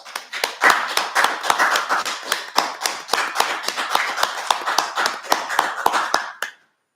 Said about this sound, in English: could you please give a big round of applause to yourselves and to the SARA team